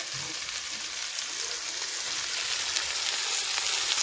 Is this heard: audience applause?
no